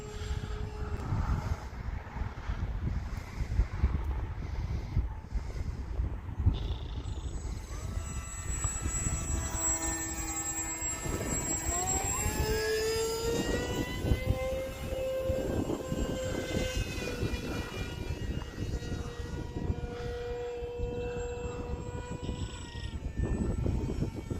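A Hobbyzone Aeroscout S RC airplane with a 1.1 m wingspan flies in gusty wind, its electric motor whining steadily and rising and falling in pitch as it passes, over a constant roar of wind noise.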